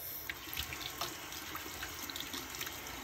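Tap water runs steadily into a sink, splashing softly as a toilet fill valve part is rinsed under the stream, fairly quiet and close.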